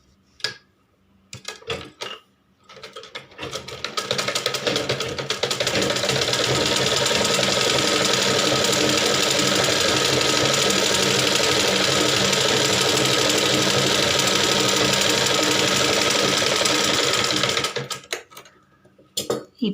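A sewing machine stitches the upper fabric of a blouse, running in one long steady burst of rapid mechanical whirring after a few brief starts and stops.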